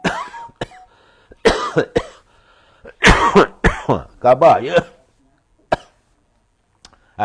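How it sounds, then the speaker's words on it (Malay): Several sharp coughs break up a man's speech, each a short harsh burst between spoken phrases. "batuk ni tak habis lagi ke?"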